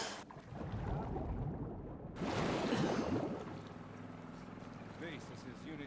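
A boat engine from The Last of Us Part 2 gives a low rumbling drone that swells up partway through and then settles, with voices talking over it.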